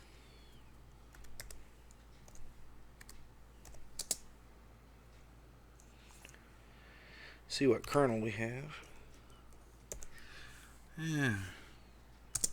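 Backlit computer keyboard being typed on, producing faint, scattered clicks and keystrokes that run under intermittent speech and low background hum.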